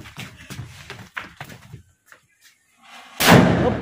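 An aloo bomb firecracker goes off outdoors with a sudden loud blast and a rumbling decay after a stretch of scattered voices and shuffling.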